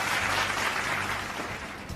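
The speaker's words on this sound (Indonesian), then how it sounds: "Beri tepuk tangan kepada tim afirmasi" Applause from a school classroom audience for the affirmative team at a student debate, a steady, dense wash of clapping that carries through the whole moment and eases off slightly at the end.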